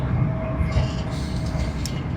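A London commuter train near Wembley rumbles steadily, heard from inside a carriage, with a low continuous roar, faint rattling and a brief high whine.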